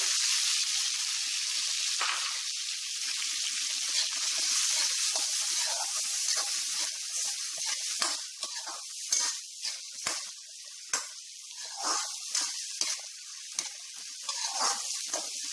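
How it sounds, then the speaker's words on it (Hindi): Onions fry in butter in a pan for Mumbai-style pav bhaji, giving a steady, close hiss and crackle with small popping bursts that grow more uneven toward the end. "अनियन को हल्का सा फ्राई करेंगे"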